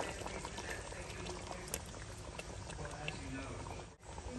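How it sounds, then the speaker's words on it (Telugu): Mango fish stew (pulusu) bubbling steadily in a pot, a continuous close simmering rumble with a brief dip near the end. "ఈ పులుసు మరుగుతున్నప్పుడు ఈ మసాలా వేసేయాలి"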